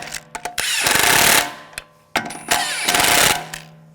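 Lug bolts on the front wheel of a 2006-2009 Audi S4 4.2L V8 are snugged down with a power tool in two loud, rattling bursts of about a second each, separated by short pauses.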